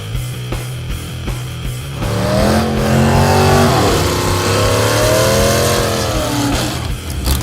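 A Mazda drag car engine, naturally aspirated and without nitrous, revs loud and close, climbing in rising sweeps before it holds a high, strained note and then drops away.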